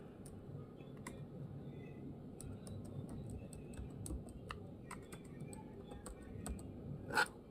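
Quiet tapping of a computer keyboard as a website name is typed, a scattered run of light clicks with a louder keystroke near the end, over faint room hiss.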